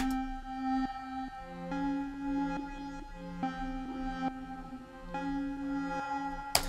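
A muffled synth arpeggio bounces through repeating notes with the highs rolled off by an EQ low-pass, giving a dull underwater tone, steady and alone with no voices.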